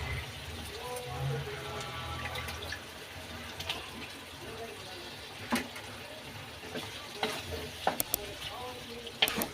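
Washed chicken going into hot masala in a pan, giving a low sizzle mixed with stirring scrapes, water-like splashes and scattered clinks, with talk over parts of it.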